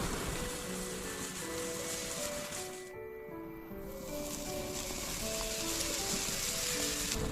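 Beef fries on a stone slab set over an open fire at a seaside shelter, giving off a steady close sizzle and crackle that dips briefly midway and then returns to a full hiss.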